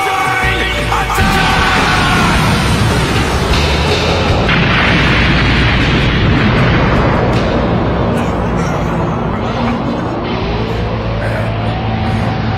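A massive explosion from the Final Shine attack in a video game, a loud, continuous roaring blast that fills the whole stretch with dense rumble and a rising whine over it, with no talk.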